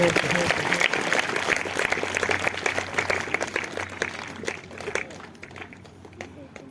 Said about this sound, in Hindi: जोरदार तालियां बजाएंगे, जोर से जोर से जोर से